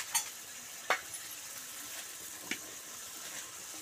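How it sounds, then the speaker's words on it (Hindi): Fried suran yam is mixed into sizzling masala in a pan, producing a faint steady frying hiss broken by three brief spoon clinks against the metal, close and quiet, with no voices. "इसको मैं अच्छे से इसमें मिला लेती हूँ मसाले में।"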